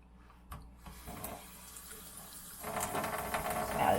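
Water running from a tap over greasy hands at a sink, a quiet splashing flow that grows louder and fuller toward the end, with a soft knock near the start and no talk.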